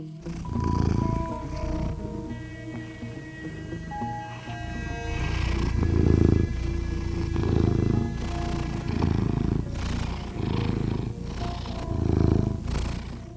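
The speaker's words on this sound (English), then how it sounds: "We'll see if we can get his purring on the microphone." A male house cat purrs steadily and close up, with a low rumbling rhythm of breaths that rises and falls for several seconds, with no talking over it.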